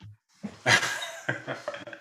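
A dog barks several times in short, sharp bursts close by in an indoor setting, with small breathy sounds between the barks.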